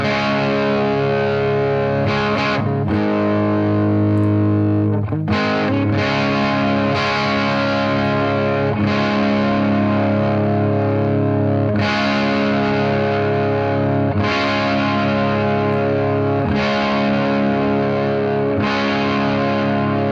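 Electric guitar run through a row of surplus overdrive pedals with the gain turned up, giving a thick, saturated distorted tone in sustained chords and riffs that repeat in sections of several seconds, loud and alone with no talking.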